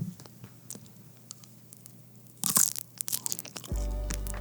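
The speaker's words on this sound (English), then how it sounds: "the ASMR crackling of a meat stick" Crisp crunching and crackling of a beef snack stick, loud and close, in a dense burst with scattered smaller crackles after it; no talking.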